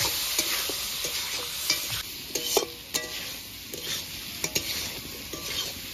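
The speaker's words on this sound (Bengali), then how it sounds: "এবার ভালো করে নেড়ে চেড়ে কষিয়ে নেব" Potatoes are stirred and fried in a pan with ginger paste, salt and turmeric for a fish curry. A soft, steady sizzle runs beneath repeated clinks and scrapes of a metal spoon against the pan at an uneven pace.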